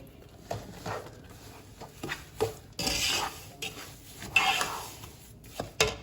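Pistachios being cooked and stirred in a pan for panjiri, irregular close clinks and scrapes of a spoon against metal with brief rattling bursts of nuts shifting, fairly quiet between strokes.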